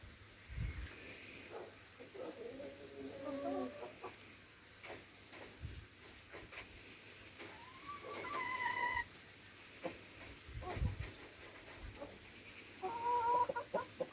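Backyard chickens clucking and murmuring close by in several scattered bursts, with soft thumps and background rustle, no talking.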